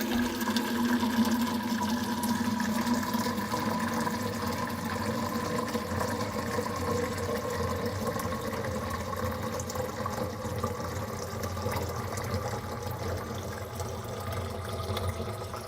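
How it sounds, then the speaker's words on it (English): Hot water pours steadily from a dispenser while making a summer slushy: a continuous close stream with a faint pump-like hum, alone and unbroken. "Okay, I'm getting some more hot water."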